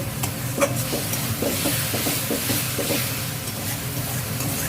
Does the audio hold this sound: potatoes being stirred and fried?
yes